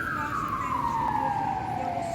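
An ambulance siren wails in a long descending sweep, loud and fairly near on a city street, with traffic noise beneath it.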